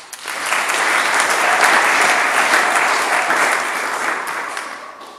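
An audience applauds the archbishop of Bukavu during a welcome ceremony for the apostolic nuncio's visit, a loud, dense, sustained round of clapping that swells and holds for several seconds before tapering off.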